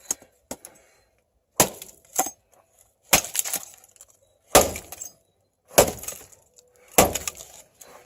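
Blade power-chopping into wood, six sharp splitting chops spaced roughly a second apart, each with a quick cracking impact and brief splintering tail, close and loud with no talk.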